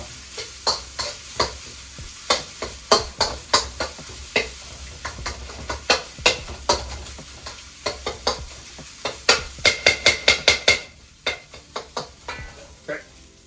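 Gochujang pork fried rice is tossed and scraped around a hot pan, giving a quick run of rhythmic metallic scrapes and clacks over a low sizzle, close and fairly loud, with no talking.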